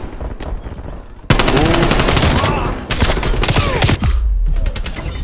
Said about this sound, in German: Der hat gerade auf mich geschossen